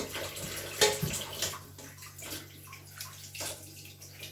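Tap water running and splashing while a sheep's head is washed for kelle paça soup in a home kitchen, a soft, close, uneven gush with a few louder splashes and clatters.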